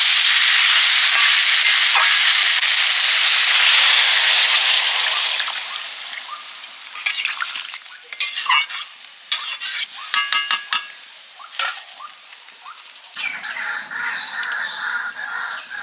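Pumpkin and drumstick pieces fry in oil in a pan with a steady, bright sizzle that fades, followed by scraping and clattering stirring sounds up close.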